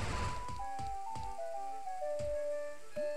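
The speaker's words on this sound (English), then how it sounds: "got some rain here." Rain falls in the video game Majora's Mask, a steady soft patter with faint ticks over a quiet background of tonal game music.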